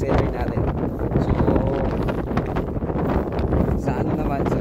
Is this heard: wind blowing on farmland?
yes